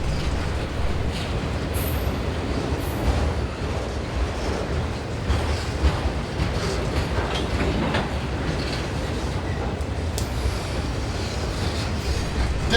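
Trains roll steadily along the tracks, a continuous rumbling with faint clickety-clack and occasional wheel squeal, moderately loud and without speech.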